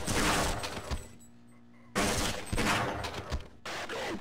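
Loud bursts of .357 revolver gunfire in the video game Half-Life: Blue Shift, close and harsh, coming as one dense barrage, a short lull with a low hum, then two more heavy volleys.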